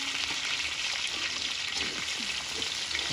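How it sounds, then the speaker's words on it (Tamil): Onions dropped into a hot pan fry with a steady bright sizzle and scattered popping crackles, close and continuous, with no voices over it. "இப்போ வெங்காயம் போடுவோம்"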